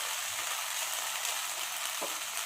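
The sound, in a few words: frying okra (bhendi) with Maggi masala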